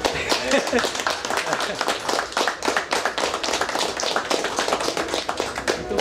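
A large audience claps in a steady, dense burst of applause, loud and close. Someone briefly speaks over it.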